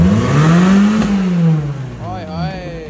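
Dodge Challenger engine revving, a loud rising and falling roar that swells near the start and then eases off, with voices shouting over it toward the end.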